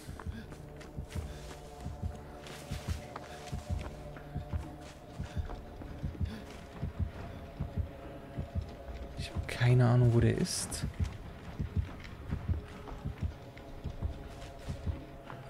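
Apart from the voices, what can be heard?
heartbeat sound from Dead by Daylight video game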